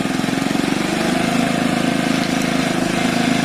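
A Piaggio Fly 50cc scooter engine idles nearby with a steady, rapid putter, running continuously without revving.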